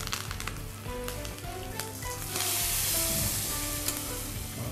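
Cumin, dried red chillies and curry leaves sizzle in hot oil for South Indian tempering, with a steady crackling hiss and scattered pops that swell louder partway through, with no voices.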